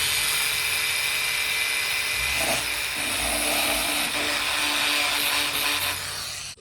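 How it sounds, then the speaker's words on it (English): A small drill whines steadily while pre-drilling pilot holes for tiny 1mm by 5mm screws on an RC sky crane belly tank mount, a continuous high-pitched motor buzz close up with slight pitch shifts as it bites. "So what I'm doing here is I'm pre-drilling"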